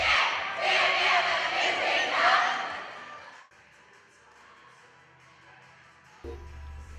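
Students cheer and shout as a crowd at a cheerleading competition between the UCO and OU cheer squads in front of a football team, a loud, dense roar for a few seconds before dropping to a quieter murmur.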